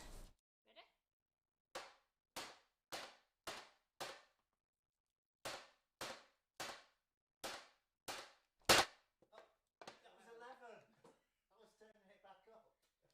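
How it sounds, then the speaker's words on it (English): A macaron baking tray is banged hard on a kitchen counter about ten times, sharp loud close slaps in uneven bursts with short gaps, followed by people talking. "I'm going to bang this tray 10 times."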